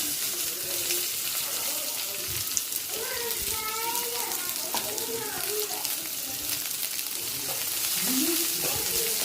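Sliced onions hit hot oil in a pan and fry with a steady broadband sizzle, while a person talks over the cooking throughout.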